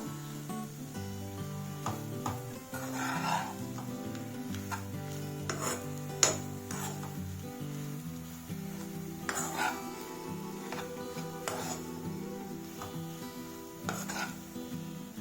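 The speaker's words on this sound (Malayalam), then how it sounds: "അപ്പം ഇങ്ങനൊരു സ്പൂൺ എന്തെങ്കിലും യൂസ് ചെയ്തിട്ട് നന്നായിട്ട് യോജിപ്പിച്ച് കൊടുക്കുക" A spoon stirs chicken cutlet masala in a bowl, making quiet, repeated scraping and clinking strokes close by, underneath steady background music.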